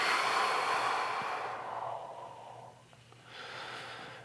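A long, forceful exhalation during an abdominal exercise, close and breathy, trailing off, then followed by a softer breath.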